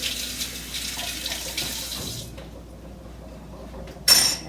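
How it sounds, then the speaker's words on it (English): A kitchen tap runs steadily as hands are washed under it, a close hissing stream that stops partway through, followed by a brief louder splash near the end. "Let me wash my hands off here real quick."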